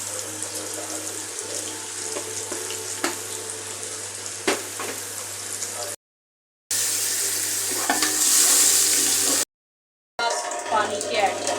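Tap water pours into a pot of rice being prepared for plain pulao in a home kitchen, a steady close rushing splash broken by two short silent gaps.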